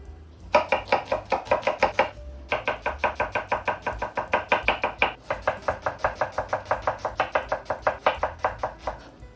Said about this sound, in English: I start by chopping up some onions.